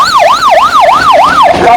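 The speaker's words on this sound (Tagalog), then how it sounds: "may pinadaan kaming ambulansya" An ambulance siren wails loudly and close by in a steady, rapid rise-and-fall cycle, passing on a street in Taguig and starting to fade at the end.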